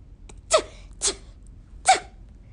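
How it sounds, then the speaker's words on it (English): Three sharp sneezes, close and fairly loud, spaced unevenly over a quiet background. "The knight sneezes."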